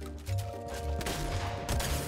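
Gunfire in the video game Fortnite rattles out in quick bursts and overlapping shots, loud and dense against the game's steady background sound.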